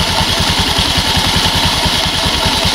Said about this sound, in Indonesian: kita lakukan harus dengan hati-hati karena ini posisi mesin dalam keadaan hidup